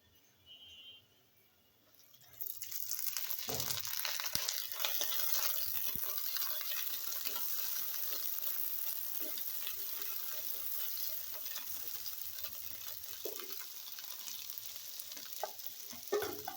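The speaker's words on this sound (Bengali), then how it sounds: "এখন আমি একটু সামান্য পানি দিয়ে দেব।" A little water hits fried, browned onions in a hot pan and bursts into a loud, sustained sizzle that stays steady for many seconds, with occasional clatters and scrapes on top.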